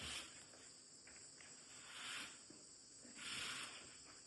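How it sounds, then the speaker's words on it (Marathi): Crickets chirp at night outside a jungle resort, a faint steady high trilling that swells in soft waves, with no voices. "आताही तुम्ही बघू शकता केवढा रातकिड्यांचा आवाज येतोय."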